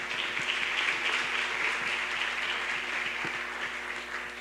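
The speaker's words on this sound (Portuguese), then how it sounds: "Aplauda ao Senhor" A church congregation claps during a Sunday service, a broad continuous wash of applause with a few sharper hand claps standing out and a low hum running beneath.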